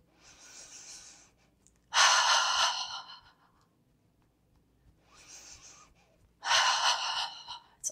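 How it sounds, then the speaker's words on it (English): Slow, deliberate breaths in and out through the mouth during a movement meditation, with softer breaths alternating with strong airy exhales in an unhurried rhythm, close and alone without talk. "You can breathe out through the mouth."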